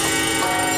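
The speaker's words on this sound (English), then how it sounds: "All those dreaded bells and alarms, how they haunt you." An alarm bell rings continuously and loudly, a dense sustained metallic clangor filling the short moment without pause.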